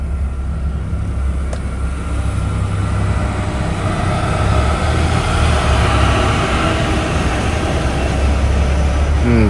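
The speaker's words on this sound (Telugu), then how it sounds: "ఈ బల్కార్లు ఆ టిప్పర్లు ఈ ట్రాలీలు వీటి వల్లనే ట్రాఫిక్ జామ్ ఎక్కువ" Heavy traffic of tippers, bulkers and trolleys crossing the bridge over the Yamuna river makes a steady, loud, broad roar of engines and tyres that holds without a break throughout.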